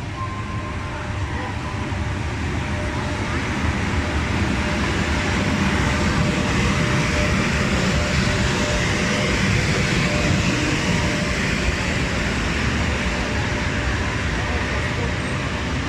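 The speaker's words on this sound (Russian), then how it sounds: "прибывает наш двухэтажный поезд Орск-Москва" A double-decker Orsk–Moscow passenger train hauled by an EP1 electric locomotive arriving at a station, giving a steady broad rumble and rolling noise that holds at an even level throughout, with no one speaking.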